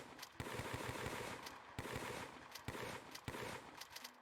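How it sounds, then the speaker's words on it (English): A video game UI button click sets off a rapid machine-gun style burst of gunshots, loud and continuous with sharp repeated cracks and no talking. "if you click on it, you get this gunshot noise"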